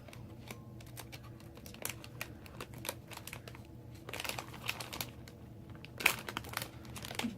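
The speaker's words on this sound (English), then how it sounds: "I use that hole punch again. Now it is kind of hard to go through the acetate bag, but you can do it." A hole punch is pushed through an acetate cookie treat bag. Quiet crinkling and scattered small clicks build to a sharper crunch near the end, with soft rustling of plastic throughout.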